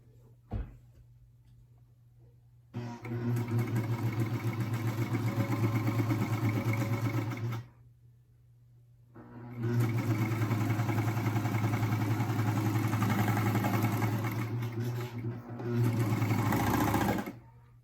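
A sewing machine stitches the seam of baby bummies in two long steady runs of rapid mechanical whirring, close and loud, separated by a short pause, with a brief restart near the end and quiet gaps before and between.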